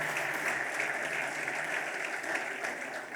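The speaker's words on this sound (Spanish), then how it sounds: "Le pueden dar un aplauso." An audience at a cooperative assembly session gives a speaker steady, even applause. The clapping is dense and sustained at a moderate level, with no talk over it.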